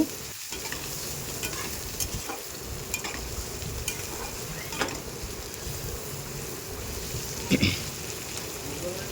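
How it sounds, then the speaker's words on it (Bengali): Onions frying in a pan while being stirred, with a steady close sizzle and repeated scraping strokes of the spoon running throughout. "তারপর দেখো আমি পেঁয়াজটা ভালো করে ভেজে নিচ্ছি"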